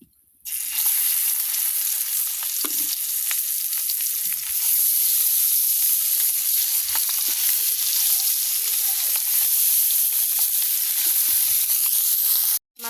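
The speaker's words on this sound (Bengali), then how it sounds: "এখন মাছগুলো দিয়ে দিব" Taki fish fry in hot oil in a pan on a clay stove, a loud, dense, continuous sizzle that starts abruptly and holds steady for about twelve seconds before cutting off.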